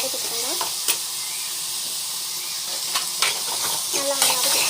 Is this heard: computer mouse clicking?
no